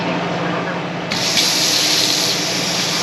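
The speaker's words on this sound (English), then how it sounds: "go turn on all the faucets and get all the hot water flowing out of here" Hot water flushing from RV faucets during a vinegar descale of the water heater: a steady hiss of running water that grows louder and fuller partway through as more flow opens up.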